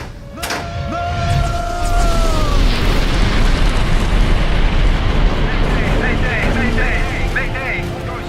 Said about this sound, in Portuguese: Uma explosão a bordo